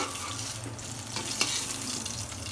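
Pieces of rohu fish fry in a hot pan in a home kitchen, giving a steady close sizzle that runs on without a break and carries a single brief clink.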